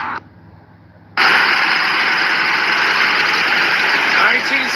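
A restored CBR engine fires up after a short quiet gap and settles into a loud, steady idle that runs on close by to the end.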